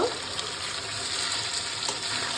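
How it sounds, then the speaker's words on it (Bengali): Mutton curry being sautéed down (kosha) in a pan, a dense continuous sizzle and bubbling close up, steady across the short stretch with no voices. "এইভাবে আমি সবটা কষিয়ে নেব"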